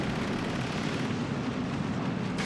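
Artillery fire in the wartime strategy game Steel Division 2, a dense continuous low rumble of distant shelling and blasts that rolls on without pause, heavy in the bass, with no voices over it.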